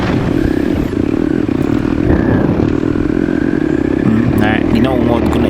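Motorcycle engine rumbling steadily while riding a rough rural road, with loud continuous wind and road noise and some clatter from the suspension, a voice speaking over it at times.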